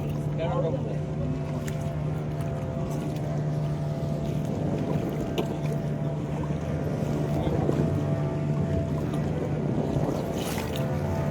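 A motorboat out on the sea off Goa drones with a steady engine hum under gusting wind noise, while people talk nearby.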